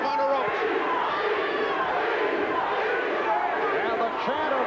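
A boxing crowd at the John Mugabi vs Frank Fletcher bout chants loudly and continuously, a dense, unbroken roar of many voices filling the arena throughout.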